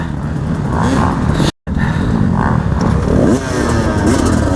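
A 2018 KTM 300 enduro motorcycle racing a hare scramble, its two-stroke engine droning and revving loudly up close with rough clattering, a brief dropout partway through.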